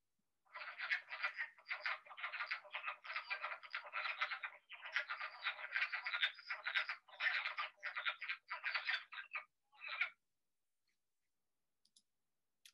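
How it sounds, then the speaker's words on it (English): Wood frog chorus recorded in early spring, a dense run of clucking, duck-like croaks repeating in rapid bursts for about ten seconds, then stopping into near silence. "our first one is the wood frog"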